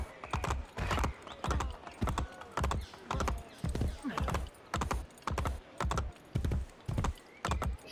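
Horse hooves in the video game Assassin's Creed Brotherhood clop in a steady galloping rhythm, repeated heavy beats close by with no voices over them.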